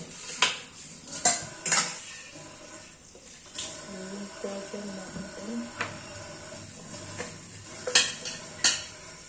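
A metal pot being washed by hand, inside and out, gives repeated sharp clanks and clatters with softer scrubbing and scraping between them, while a person talks throughout.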